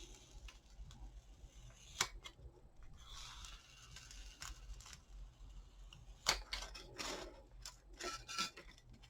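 Pink insulation foam being cut by hand for sci-fi miniature terrain, a quiet run of scratchy snips and crackles with a few sharper clicks, heard close up with no talking.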